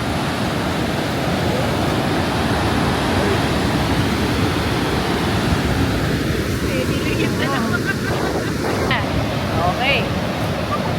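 A waterfall in Quebec, seen from a viewing deck, roars as a steady, broad wash of rushing water that fills the whole clip, with faint voices in the background.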